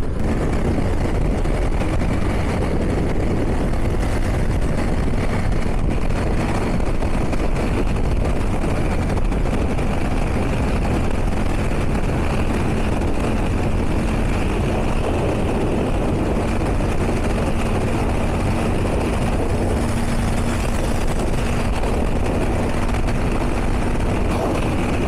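Honda Invicta motorcycle climbing the Portillo mountain road, a loud, continuous engine drone mixed with heavy wind rush, steady throughout with no pauses.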